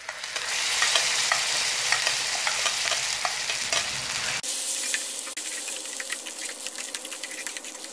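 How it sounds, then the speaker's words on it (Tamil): Mashed sorrel greens going into hot sesame oil with dried chillies and vadagam, a loud steady sizzle up close that drops and thins partway through as the greens hit the oil, with no talk. "இப்போ இதில் நம்ம கடைஞ்சி வச்சுருக்க கீரையை சேர்த்துடலாம்"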